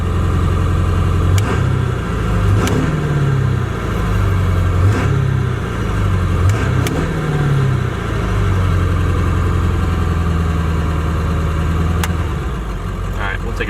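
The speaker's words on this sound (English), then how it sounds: "When I turn the switch on, you can hear the idle going up" A 7.3L Powerstroke diesel truck engine idles loud and close with a deep steady rumble, its pitch rising and falling in several swells as the idle is raised.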